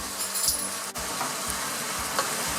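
Chicken and sweet potato curry with mild curry powder sizzles steadily in a pan while a spoon scrapes and stirs, giving a few soft rhythmic knocks; close and quiet, with no talk.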